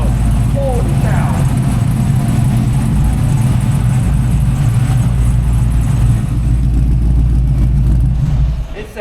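A whipple-supercharged 1970 Chevrolet Chevelle engine runs loud and steady with a deep, rumbling low-end idle throughout, trailing off slightly at the very end.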